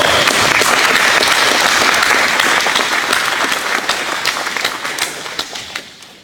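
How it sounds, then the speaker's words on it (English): A seated audience at a gathering about homelessness gives veterans a big round of applause: dense, loud clapping that holds steady, then thins into scattered claps as it fades out. "Big applause."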